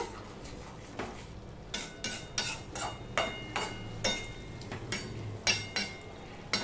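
Sliced raw mango stirred into small fish in a pan, heard as a run of sharp utensil knocks and scrapes against the metal, irregular and close, with a low background hum and no talking.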